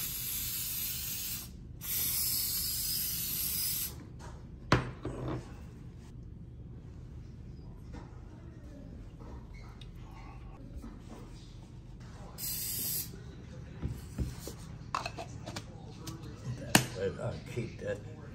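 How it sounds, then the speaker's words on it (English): Sharp hissing bursts from an aerosol can spraying contact cement adhesive onto a seat cushion, a few seconds each and separated by pauses, with handling clatter and quiet talk in between. "I'm gonna just spray a little bit here so that this thing will stay fixed"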